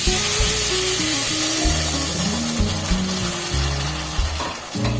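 Spice paste hits a pan of frying cauliflower and small potatoes, setting off a loud, steady sizzle that runs unbroken throughout under a low droning hum.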